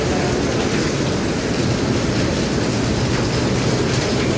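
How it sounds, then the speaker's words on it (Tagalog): Heavy rain pours steadily during construction work on a house, a dense, loud, continuous roar of broadband noise with no pauses and no voices. "Lakas na naman ng ulan, oh"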